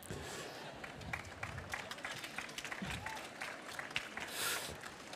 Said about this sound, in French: Remarque qu'on m'applaudit sur « Je suis d'accord »